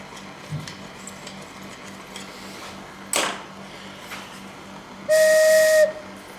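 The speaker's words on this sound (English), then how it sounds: "I can't say that sounds the best note in the organ" A pipe from an 1865 Forster & Andrews pipe organ under restoration sounds a short breathy note with a hiss of air, near and fairly loud, after some faint workshop clicks and knocks.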